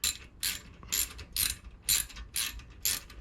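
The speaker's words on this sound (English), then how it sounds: "Now we can go ahead and install our head bolts." A hand ratchet clicks in seven evenly spaced bursts, driving the head bolts on a Predator 212 small engine, crisp and close with no talking.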